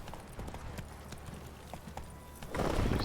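The hooves of Roach, a horse in The Witcher 3 video game, clip-clop in a quick uneven rhythm at moderate distance, followed by a louder rush of movement near the end.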